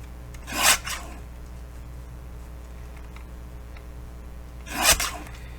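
A cutter slices a paper image sheet into strips: two short rasping cuts a few seconds apart, each a brief scraping swipe over a quiet steady background.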